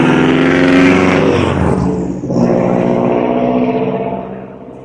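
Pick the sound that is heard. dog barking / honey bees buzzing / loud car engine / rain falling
loud car engine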